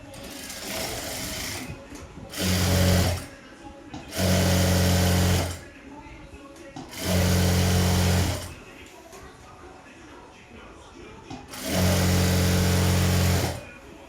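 A sewing machine stitches the crotch seam of a pair of straight-cut pants in four loud, even bursts of whirring, each a second or two long, with quieter gaps between them.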